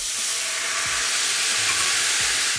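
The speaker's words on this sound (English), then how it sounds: "Deglaze the pan with a ladle of beef stock" A pan with butter and toasted pepper sizzles steadily after a ladle of beef stock is added to deglaze it, a loud continuous hiss with no talking.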